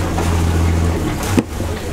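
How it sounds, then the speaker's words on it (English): The inboard engine of a Salona 38 sailboat runs in neutral as the throttle is pushed to raise the revs, a loud, steady low diesel drone with a brief bump near the end. "To excite the revs in neutral, pull the lever out and shift forward."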